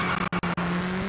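Steady engine drone of rally cars in the video game V-Rally 4 with a sustained tonal whine, broken by two or three brief dropouts, loud and continuous.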